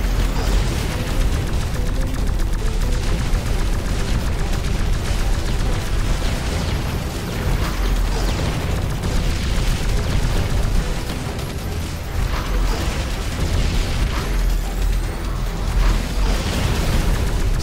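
Charge-up shots and explosions in the video game X-Morph Defense form a dense, continuous barrage of loud booms and bursts that runs the whole time without a break, with no voices over it.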